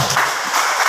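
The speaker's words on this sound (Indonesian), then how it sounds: "Ya, tepuk tangan buat Bu Sofa ya." An audience at a school staff briefing gives brief applause for a woman who asked a question, a short burst of steady, fairly loud clapping with no talking.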